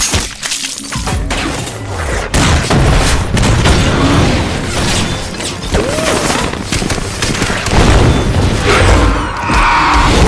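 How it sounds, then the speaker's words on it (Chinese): Rocket blasts and gunfire from a Turkish war film, in which a night attack on an outpost brings loud, dense booms, crashes and bursts of shots. The sound runs continuously close up, with fleeting shouts mixed in. "从黑暗中飞来的火箭弹瞬间点燃了哨所，现场顿时火光冲天，枪声四起。"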